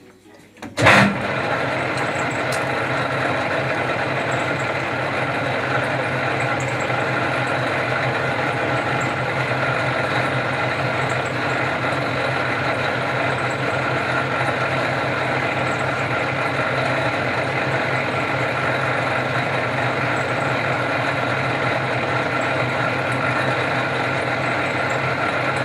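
A metal lathe turns a rifle barrel at 58 RPM under a flood of coolant, holding a steady, loud mechanical drone with a faint whine for the whole stretch after a sharp click at the very start.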